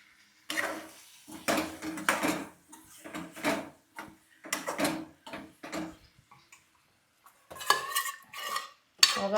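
A metal spoon clinks and scrapes inside a cooking pot, mixing masala into chicken in oil for a red tambda rassa curry, in uneven bursts with short pauses between strokes.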